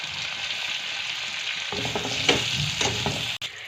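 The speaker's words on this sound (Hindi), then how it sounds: "टमाटर को भी थोड़ा सा फ्राई कर लूँगी" Spices and tomatoes frying in hot oil in a pan for a potato yogurt gravy, a steady close sizzle with scattered stirring scrapes and clicks, no talking.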